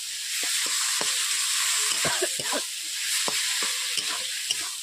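A salted, turmeric-rubbed fish head being stir-fried with onion in a pan, a steady close hiss of oil punctuated by repeated clicking scrapes and stirs of the spatula.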